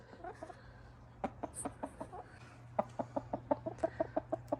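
A pet chicken clucks nearby in short, sharp calls that start sparse and quicken into a steady rhythmic run of clucks.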